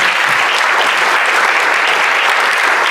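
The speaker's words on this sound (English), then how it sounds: "please stand so we can applaud you" Sustained, dense applause from a seated audience at a Rotary club luncheon welcomes new members, loud and even throughout with no break.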